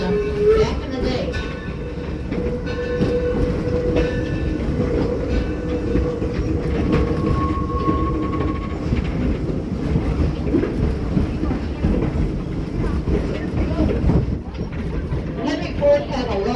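A train on the perimeter railway around Greenfield Village rumbles steadily for the whole stretch, with a brief sustained horn-like tone midway, while a voice talks over it.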